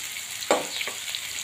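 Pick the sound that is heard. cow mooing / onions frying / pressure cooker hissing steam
onions frying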